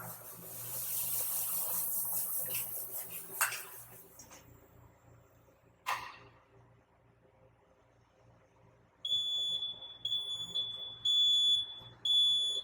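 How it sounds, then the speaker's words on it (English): An electronic alarm on an automated ultrasonic cleaning unit beeps in a rapid, repeating high-pitched pattern, starting after some running water and clatter earlier on. "This will give you an example of the alarm."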